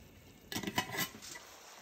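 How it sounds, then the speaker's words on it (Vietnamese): Chopsticks stirring braised pork ribs in a pot: a short burst of close clinks and scraping against the pot's side, lasting about a second, over a quiet background. "mình dùng đũa mình đảo liên tục nha"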